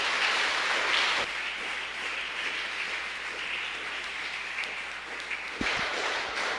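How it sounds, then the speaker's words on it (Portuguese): Steady applause from a church congregation at a Sunday service fills the space, a dense even clatter of many hands clapping, with a brief louder burst near the end. "Aplauda o Senhor."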